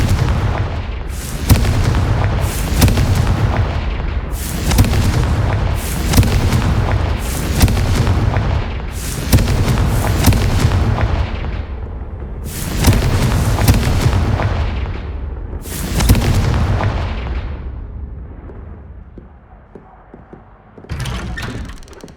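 Repeated booming blasts from the Confringo fire spell in Hogwarts Legacy, roughly a dozen heavy explosions in quick succession, each with a sharp burst and rumbling tail, then a short lull before one more blast.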